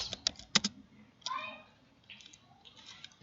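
Computer keys are struck in quick bursts of crisp clicks, pausing briefly between groups, while a voice talks softly underneath as a command is entered into a networking lab PC.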